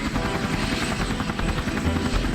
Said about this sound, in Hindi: हेलीकॉप्टर नीचे लैंड हुआ।